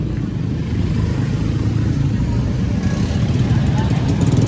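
Motorcycles rumble past on a busy, noisy street, continuous engine drone and traffic noise close by, with a voice talking over it.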